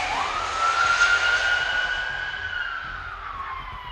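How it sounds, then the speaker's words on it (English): Police car siren wailing as it passes close by on a nearby street, a loud rising-and-falling tone that sweeps and fades over several seconds, with faint traffic rumble beneath. "Police car going down the street right here."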